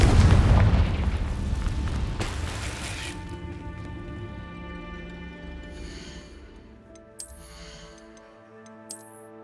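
A Confringo blasting spell in Hogwarts Legacy erupts with a loud, heavy boom that rolls into a long, fading rumble, followed by faint ringing tones and a couple of light chimes near the end.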